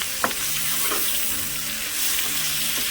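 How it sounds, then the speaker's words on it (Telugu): Onion paste added to hot oil for a restaurant-style egg tomato gravy curry sizzles and fries steadily, with a few soft clinks of stirring over the continuous hiss. "ఉల్లిగడ్డ పేస్ట్ యాడ్ చేసేస్తున్నాము"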